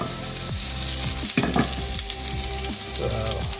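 Mexican pork meatballs sizzle steadily in a hot pan, loud and close, with occasional sharper spits and soft scrapes as they are moved around.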